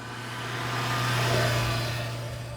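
Honda CB650F motorcycle engine while riding, a smooth, quiet, steady purr that swells gently and fades under rushing wind noise, with no talking.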